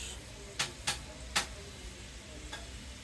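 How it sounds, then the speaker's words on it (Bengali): Vegetables with onion being stirred in a pan for a Chinese vegetable dish: a few sharp, separate scraping clicks of a utensil against the pan over quiet background, with no talking. "সবজিগুলোকে আমি ভালোভাবে মিশিয়ে নিচ্ছি।"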